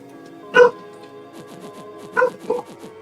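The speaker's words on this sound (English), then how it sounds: "we hear dog barking" Dog barking in the surreal RPG Opus Torrenti, two sharp yips about a second and a half apart with a softer third, set against a steady low ambient hum in an isolated room.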